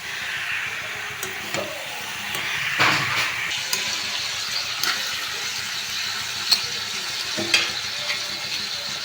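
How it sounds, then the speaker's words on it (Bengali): Curry simmering in a pan as potatoes and fish heads are stirred in, a steady frying hiss with soft scraping and a few brief clinks of a utensil against the pan, no talking. "এবার আলুগুলোকে দিয়ে দিতে হবে, আর মাছের মাথাগুলোকেও দিয়ে দিতে হবে, দিয়ে ভালো করে মিশিয়ে নিতে হবে"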